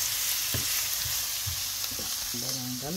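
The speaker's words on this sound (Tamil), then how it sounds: "அது எல்லாம் வதங்குது." Onions and garlic sauté in a hot pan, a close steady sizzle and hiss with occasional scrapes and clinks of a spoon stirring, fairly loud and continuous.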